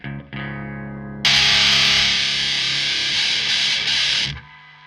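Loud, heavily distorted electric guitar through a DOD Grunge pedal: a few muted notes, then a thick fuzzy chord rings out and sustains for about three seconds before cutting off.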